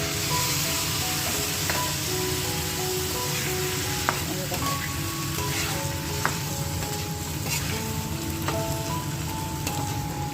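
A fish head sizzles in a pan with fried potatoes and rice for muri ghonto, a steady close crackling fry with faint tonal sounds in the background.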